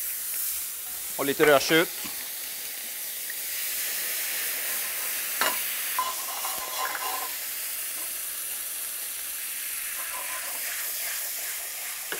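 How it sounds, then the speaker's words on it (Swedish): Sherry vinegar hits a hot pan to deglaze it and sets off a soft, steady sizzle with a few clinks and stirring scrapes, while someone speaks briefly. "Vi kommer då tillsätta lite sherryvinäger till i den här deglacera pannan då med lite sherryvinäger."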